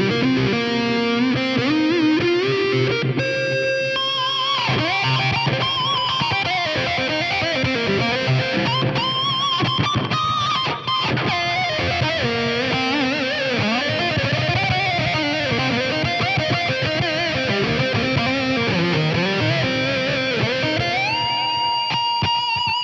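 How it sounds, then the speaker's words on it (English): An electric guitar through a Fractal FM9 plays heavily distorted lines with a thick, octave-doubled fuzz tone on the neck pickup, tone rolled down, loud and continuous with sliding notes and chords. "something really disgusting like this octave distortion kind of does a trick"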